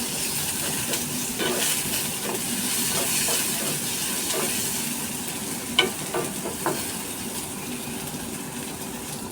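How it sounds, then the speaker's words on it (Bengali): A generous amount of onion fries in a pan for a shapla flower stalk dish, a continuous moderate sizzle broken by sharp clicks and scrapes of a utensil stirring, close up and without talking. "পেঁয়াজটা যখন ভালো করে ভাজা হয়ে যাবে"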